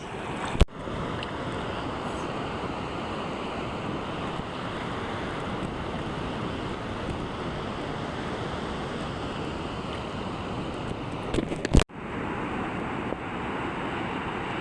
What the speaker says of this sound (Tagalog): ang laki ng alon guys, my goodness